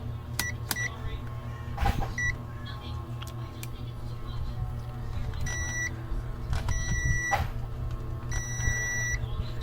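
A digital multimeter in buzzer continuity mode gives short electronic beeps in a few quick bursts, with a steady low hum beneath while someone works on a Bluetooth speaker that has no display or power.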